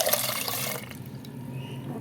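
Water is poured into a cooking mixture in a home kitchen as part of making a kuzhambu, giving a loud, splashing gush that fades out after about a second into quieter trickling.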